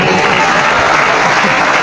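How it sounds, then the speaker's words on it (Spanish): A church congregation gives loud, dense applause, a continuous close wash of clapping filling the short moment without spoken words. "Aplauso fuerte, que se oiga aplauso, hermano"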